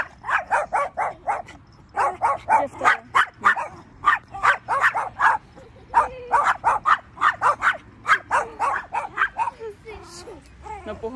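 A dog barks repeatedly in quick bursts with whimpering yips, close and loud, running almost continuously from start to finish.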